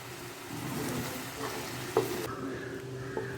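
Thick jamun (naval palam) fruit jam being stirred in a pan on the stove as it cooks down, a soft continuous sizzling bubble with spoon scrapes and a couple of sharp clinks near the end.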